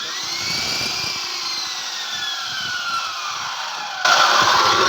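A loud 32 mm rebar bending machine's motor runs steadily with a whining tone that slowly slides in pitch, then grows noticeably louder near the end.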